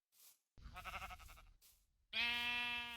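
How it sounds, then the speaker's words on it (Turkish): Sheep in Minecraft bleat in short wavering calls, a faint one at first, then a louder harmonic bleat that holds near and steady to the end. "ne her yer koyun ya"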